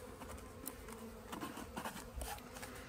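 Honey bees buzz steadily inside a measuring cup as it is shaken, giving a dense, continuous drone with soft pattering bumps throughout and no talk.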